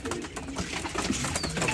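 Fancy pigeons, including buttera crosses, cooing together in a continuous soft, murmuring chorus close by.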